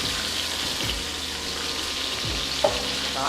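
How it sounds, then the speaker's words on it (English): Onion hits hot oil in a pan, a loud steady sizzle with scattered pops and crackles as the wet pieces fry. "there's water on the onion, so it's gonna make the oil pop"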